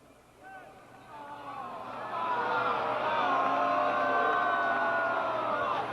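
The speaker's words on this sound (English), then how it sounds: "Crowd unhappy with that one" Baseball crowd at a 1997 CIF Southern Section Division 2 high school final, Damien versus La Mirada, swelling into a sustained murmur of disapproval after a pitch call, with voices rising and holding loud for several seconds.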